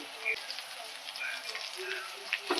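Onion sizzles and crackles in a frying pan with tomato, cashews and green chilli while cooking palak paneer, a steady close-up fry with scattered pops throughout.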